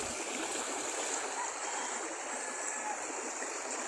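Water flowing steadily along a stream at Purok 1 Lawis, a continuous close rushing and gurgling wash that stays even throughout.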